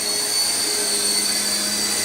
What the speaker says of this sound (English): it is fun flying it as a like 3-channel helicopter